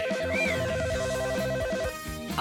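An electronic ringtone on a phone trills in a steady, repeating tonal pattern, loud and close, for about two seconds before it cuts off.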